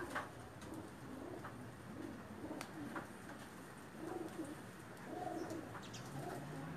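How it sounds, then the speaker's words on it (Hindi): Pakistani pigeons coo softly in repeated low throaty phrases against a quiet background murmur, with a few faint clicks and chirps. "बहुत अच्छे कबूतर हैं जिनके"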